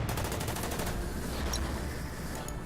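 A Soviet KV tank fires in the strategy game Order of Battle at Stalingrad, a dense, loud burst of rapid gunfire-like blasts filling the whole moment without pause.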